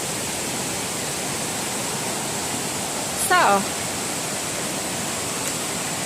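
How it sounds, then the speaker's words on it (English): A creek along the Appalachian Trail, feeding a waterfall, rushes in a steady, loud wash of flowing water throughout, with a brief spoken word midway. "this is the creek, that leads to the waterfall that you just saw"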